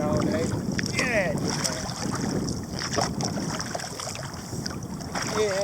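Wind of about 5-10 knots blowing while a kayak is paddled on Brice's Creek in New Bern, North Carolina, a constant rushing buffet on the microphone with faint water splashes from the paddle strokes throughout.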